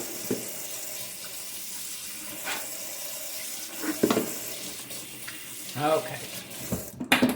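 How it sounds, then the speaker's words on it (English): Water runs from a sink tap during handwashing in a home kitchen, a steady close splash broken by brief clatter and rubbing, and someone says a word. "I'm going to wash my hands good."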